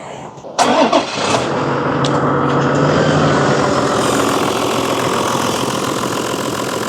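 A car engine cranks and catches, then settles into a steady, loud idle nearby with the air-conditioning compressor belt removed; no screech is evident, only the even running hum.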